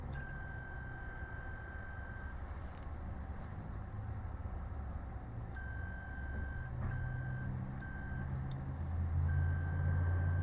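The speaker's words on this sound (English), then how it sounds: "Beeping when I'm touching two of them" A continuity tester's high electronic tone beeps in short bursts, some longer and some clipped, over a low engine-like hum, while testing a Valeo alternator during slip ring repair.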